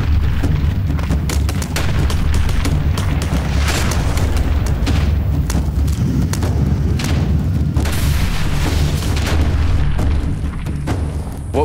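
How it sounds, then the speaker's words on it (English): Gunfire at targets on a shooting range, a loud, continuous barrage of overlapping shots and booms that goes on for over ten seconds, heard alone with no talk. "We can engage those targets. On the countdown, shooting on one."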